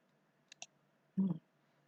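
Two quick, light computer mouse clicks, close and crisp, followed by a short low thump, in an otherwise quiet room.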